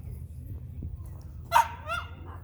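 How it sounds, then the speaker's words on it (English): At a campground in Lebanon, Tennessee, a dog gives a single bark at moderate distance, followed by a fainter yelp, over low rumbling background noise. "There's a lot of dogs here too."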